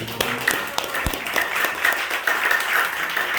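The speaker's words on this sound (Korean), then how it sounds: "박수 한번 보내세요" A church congregation at a national prayer rally applauds a head pastor, producing steady, fairly loud clapping with a few sharper claps and faint murmuring throughout.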